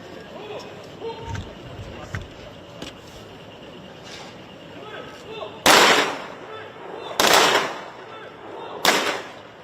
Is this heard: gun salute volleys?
yes